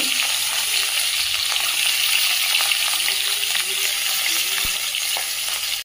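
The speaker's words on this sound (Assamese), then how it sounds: "ইয়াত তেল গৰম হ'ল অলপীয়া মাছ কুটি দি দিছোঁ" Small cut pieces of fish frying in a little hot oil for a fish khar dish, a strong, continuous crackling sizzle close up, with faint stirring clinks.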